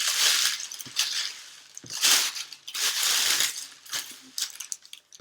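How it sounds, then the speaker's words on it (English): A plastic bag being folded over on itself for a homemade kite, with repeated close crinkling and rustling bursts in irregular rhythm and no talk. "I need to fold my bag over."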